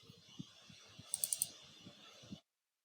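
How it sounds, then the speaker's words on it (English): A delete key is pressed on a computer keyboard during a spreadsheet task in Microsoft Excel. Soft, close keyboard taps and clicks come in a steady run for about two seconds. Then the sound stops. "then press delete key on keyboard"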